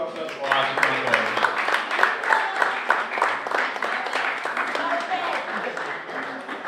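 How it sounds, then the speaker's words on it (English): An audience claps in sustained, dense applause for student media fellows at a live exhibition event, steady and fairly loud across the whole stretch with crowd murmur mixed in. "A round of applause for our student boys"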